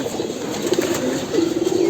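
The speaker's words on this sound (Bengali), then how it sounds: "এটা হচ্ছে নর কবুতর" A male pigeon in a loft coos in soft, low, repeated calls over a steady background hum, with a few brief bursts close to the microphone.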